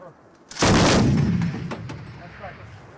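A modern Czech 14.5 mm heavy machine gun fires, heard as one loud, sudden, booming blast with a long rolling decay, followed by a few fainter cracks further off.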